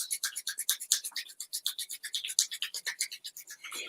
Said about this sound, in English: Rub those hands together as fast as you can.